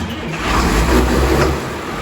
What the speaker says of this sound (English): that sounds like his good diesel pickup